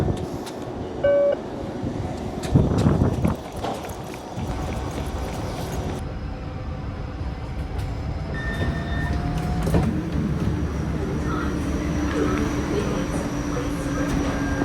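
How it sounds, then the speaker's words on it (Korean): A train pulls into a station and keeps running, a continuous low rumble with squeals and door sounds, heard amid station ambience and brief voices. "마침 열차가 나를 기다리고 있어"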